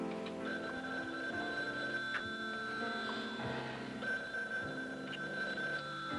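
A telephone rings indoors in a 1980s soap-opera scene, a steady repeating electronic tone with a low hum underneath and no voices.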